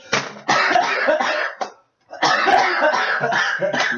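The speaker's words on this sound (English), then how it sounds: "I was trying to cough." Two long bursts of coughing or throat-clearing from a person nearby, loud and rough, with a short silent gap between them.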